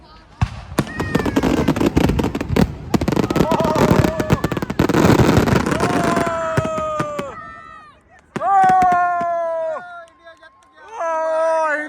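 Firecrackers crackle and bang in dense, rapid bursts for several seconds during an outdoor celebration of India's World Cup win in Italy, followed by loud excited voices shouting.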